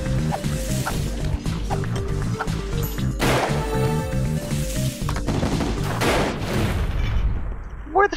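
Repeated bomb blasts and gunfire crash through a chaotic round of the 2D shooter Gun Monkeys, with booming hits clustered densely over a steady game soundtrack and no talk.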